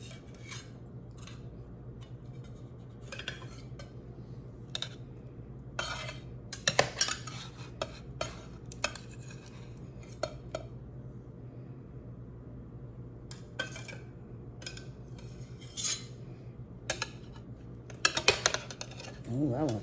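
Knife or pizza cutter slicing a lobster flatbread pizza on a plate, with scattered clinks and scrapes of cutlery against dishware, moderately quiet with a steady low hum beneath.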